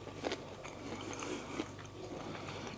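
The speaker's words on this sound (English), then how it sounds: "Sorry if you hate chewy sounds." Someone chews sweet bread up close with soft, faint, moist bites and crunches, in a quiet room with no talking.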